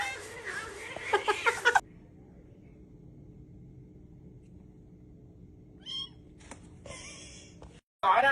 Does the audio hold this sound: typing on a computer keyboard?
no